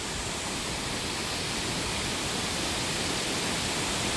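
Waterfall at Salango Temple Park in Malaysia, a steady, dense roar of falling water filling the whole stretch without pause, close and loud.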